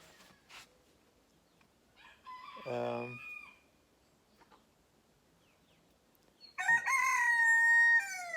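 A rooster crows twice, fairly close and loud, with a quiet outdoor background between the calls.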